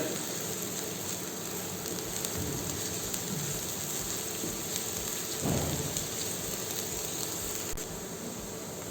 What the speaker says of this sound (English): Heat oil, add fine chopped onions, saute it very well.